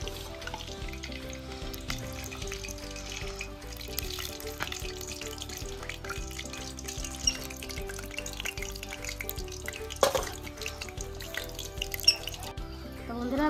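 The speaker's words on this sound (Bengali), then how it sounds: "নামিয়ে নিয়ে এবার বাকিগুলো ভেজে নিই।" Chicken pakoras fry in hot oil, a faint steady sizzle with soft crackles, under a quiet layer of background music.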